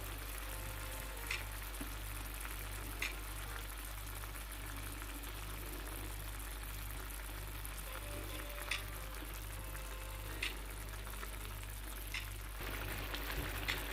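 Chicken meatballs dropped one by one into hot oil, giving a faint, steady frying sizzle with a low hum underneath and a few small pops and clicks scattered through.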